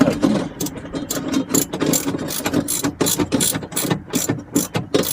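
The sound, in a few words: tightening nuts on bolts of Pengor Penguin steering assembly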